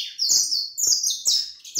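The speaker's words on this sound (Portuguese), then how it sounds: "agora eu tô gostando de deixar os passarinhos cantar um pouco pra vocês verem" Several canaries sing in bright, rapid trills and chirps, phrases bursting in repeated waves close to the listener with brief gaps between, no talking over them.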